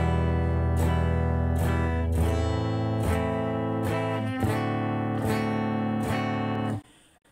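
Guitar strums a chord progression in a lesson setting, with full chords struck about every half second to second and changing as they go, ringing loudly with no talk before stopping abruptly near the end.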